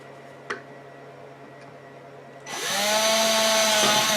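After a couple of faint ticks, a power drill kicks on and drills a pilot hole in wood for a conduit hole in an electrical junction box, a loud close whine that holds steady, then slows and stops.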